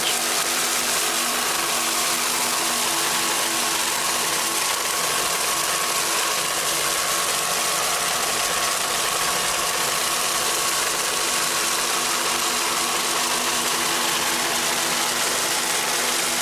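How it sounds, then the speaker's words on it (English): Twin 550-horsepower Mercury engines power a 33-foot Fountain racing boat during a 1993 Lake of the Ozarks offshore race, a loud, unbroken mechanical drone holding steady and close for the whole stretch, with no voices. "Let's listen to those two 550 horsepower Mercury engines."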